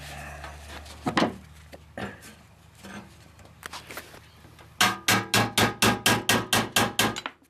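Metal hammering with a driver seating a bushing on a float ride seat: a few scattered taps and knocks, then a rapid run of about a dozen loud, evenly spaced strikes ringing close by.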